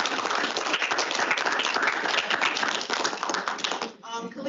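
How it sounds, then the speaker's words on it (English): Audience applause for presenters at a university session, dense steady clapping with a voice speaking over it, ending abruptly as the clapping cuts off. "can we all give a round of applause to our"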